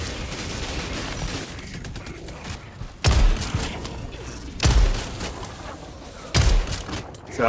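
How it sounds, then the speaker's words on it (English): Machine gun fire in Helldivers 2, delivered in three loud, heavy bursts spaced a second or two apart, each with a booming thud and rattle over a rumbling battlefield backdrop. "Yeah, come on, machine gun, get him."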